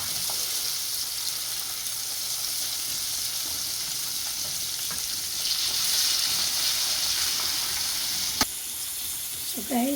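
Red snapper frying in a pan at home, a loud, continuous close-up sizzle and crackle that swells midway, with a sharp clink near the end.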